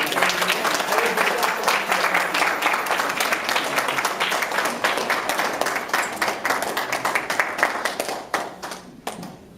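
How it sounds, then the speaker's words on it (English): An audience at a church event applauds with steady, dense clapping that gradually thins out and fades toward the end. "Let's give another quick round of applause for Cindy."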